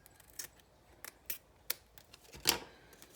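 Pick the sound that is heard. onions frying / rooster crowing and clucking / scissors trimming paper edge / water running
scissors trimming paper edge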